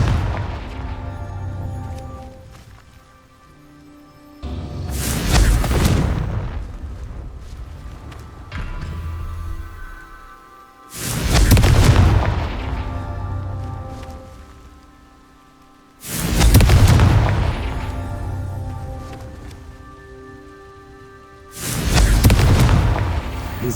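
Confringo fire-spell explosions from Hogwarts Legacy boom out in a steady series of five heavy blasts about five seconds apart, each swelling into a loud roar before fading.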